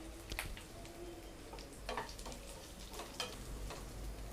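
Banana flower sautés in a pan with curry leaves, a soft sizzling hiss broken by irregular crackles and pops, fairly quiet and close, with no voices.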